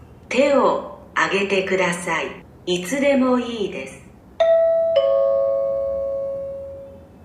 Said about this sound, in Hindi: ये घंटी है, एग्जाम स्टार्ट हो रहा है अब आपका।